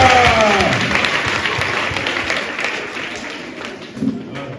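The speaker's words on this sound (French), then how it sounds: "On applaudit pour Tata." Children at a mass in a church clap together in a lively round of applause that gradually fades over several seconds, with a few voices mixed in.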